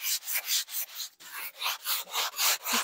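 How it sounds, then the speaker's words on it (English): Rhythmic back-and-forth scraping of a sanding block on wood, close up, about a dozen steady strokes with no talking. "I'm going to give it another once over with my sanding block."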